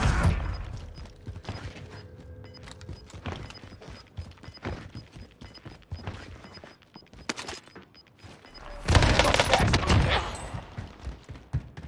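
Owen submachine gun fitted with a fire rate barrel in Call of Duty, firing in rapid bursts through the clip, with a louder, denser stretch of shots near the end over game effects.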